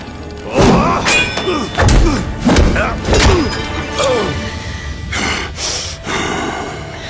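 Someone is beaten in a fight: repeated heavy thumps and whacks land in quick succession, mixed with grunts, gasps and sharp breaths, close and loud.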